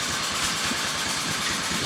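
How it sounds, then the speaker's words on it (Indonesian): A 2010 Suzuki Spin 125's engine idles close by, a steady hum, a continuous low rumble with a broad hiss layered on top and no pauses. "Oke, jadi ini adalah suara mesin ya dari Spin 125."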